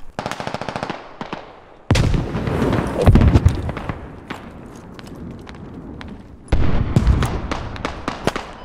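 Gunfire crackles through a Squad battle, a rapid stutter of automatic shots opening into a loud grenade blast that rolls out, then more bursts of close rifle fire and another heavy boom.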